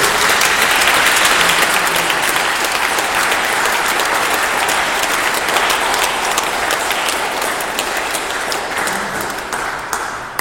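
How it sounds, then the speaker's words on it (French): Sustained applause from a large crowd at a priest's funeral, dense and even throughout, slowly tapering slightly toward the end. "Et nous applaudissons"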